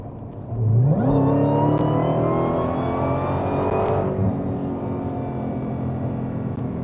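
A Dodge Demon 170 engine revs up sharply, its pitch climbing, then settles into a loud, steady drone that eases off slightly toward the end.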